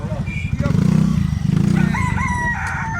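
A talisayo gamecock with white legs crows loudly and close, one drawn-out cock-a-doodle-doo with a throaty pulsing tone, while other birds chirp faintly in the background.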